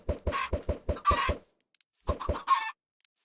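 Chickens in the video game Minecraft cluck in a quick burst of short, close, fairly quiet notes, then pause and cluck again, with no talk.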